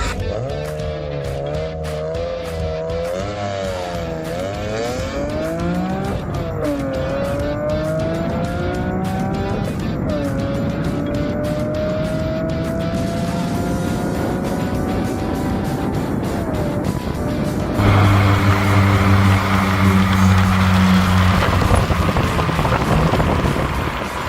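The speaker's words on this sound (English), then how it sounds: "All the drivers who are participating in this particular run are ready and have got their cars lined up" Cars in a motoring run pull away one after another, engines revving and rising in pitch with some tyre squeal, then a louder nearby car passes close, with wind buffeting the microphone.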